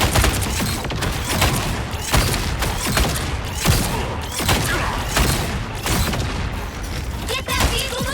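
Iron Man drops bombs in the video game Marvel Rivals, a dense barrage of repeated explosive booms and rapid firing that pulse roughly every second, loud and continuous with game effects layered over it.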